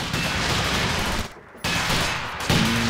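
Dense small-arms fire from the Company of Heroes 2 video game pours continuously at a tank, a loud rattling fusillade with a brief dip before it resumes.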